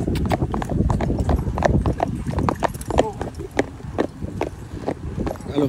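A ridden horse walks along a canal bank and its hooves give a steady, close clip-clop on the ground while someone talks over them.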